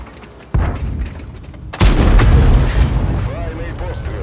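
Tank cannon fire from an M4A3E8 Sherman in World of Tanks: a loud booming shot at about half a second, then a second, heavier blast that rumbles on under game sounds.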